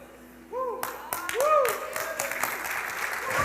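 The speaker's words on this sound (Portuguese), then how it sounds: "eles aplaudiram mais que vocês" Crowd applause breaks out and builds into sustained clapping, with voices and a few whoops mixed in.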